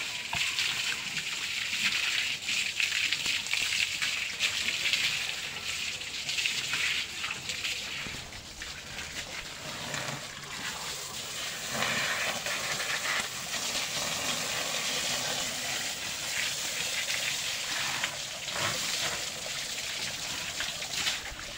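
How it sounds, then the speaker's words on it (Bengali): Cows are washed one by one with sprayed water, a continuous hissing gush with shifting splashes and an engine-like hum underneath, sustained and fairly close. "এক এক করে সবগুলো পানি মারা হচ্ছে।"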